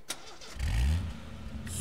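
Car engine cranking and catching in the survival shooter H1Z1, a sharp click followed by a low rumbling start that settles into a steady idle, fairly close.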